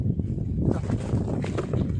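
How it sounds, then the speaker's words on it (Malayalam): Strong wind blows outdoors near a house rooftop, buffeting the microphone with a loud, rumbling, gusty roar that stays steady through the moment, with no one speaking. "നല്ല കാറ്റുണ്ട് കേട്ടോ അവിടെ"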